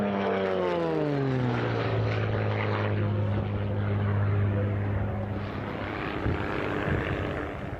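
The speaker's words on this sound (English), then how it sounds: "Beautiful red and white airplane, Tommy." Red and white propeller race plane, Peter Balmer's race 67 of Switzerland, at an air race championship: a loud droning engine whose pitch drops as it passes close by, then a fading rumble; no voices.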